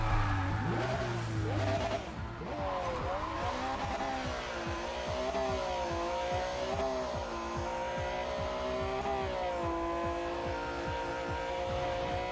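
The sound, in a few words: Audi S4 car engine in video game Need for Speed Pro Street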